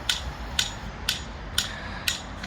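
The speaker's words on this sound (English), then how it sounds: "That noise you can hear is Jordan in the wildlife setting up his string line" Someone outdoors setting up a string line, heard as five evenly spaced ratcheting clicks about half a second apart, faint and a little distant over a steady hiss of background noise, with no talking.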